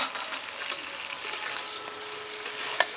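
Spiced water poured into sizzling, fried-down masala with cashew and peanut paste in a pan for mitha shukto, giving a steady bright hiss and crackle with light stirring, close up and without talk.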